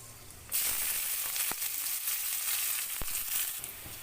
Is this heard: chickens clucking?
no